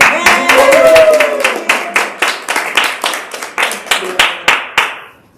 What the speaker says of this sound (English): let's give a round of applause to Kim, who is our outgoing Vice President.